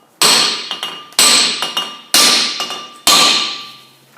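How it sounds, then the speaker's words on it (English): Four loud, close hammer blows ring out about a second apart as a mini sledge taps the brake rotor between the wheel studs on a 2004 Buick LeSabre front hub, each strike ringing metallically and decaying before the next. "take a mini sledge or another hammer and tap in between each of the studs"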